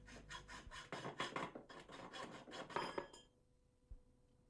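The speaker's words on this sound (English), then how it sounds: "Trim the pipe to length as required." Heating pipe being cut to length with quick, rhythmic rasping strokes for about three seconds, close and fairly quiet, then silence apart from one small knock.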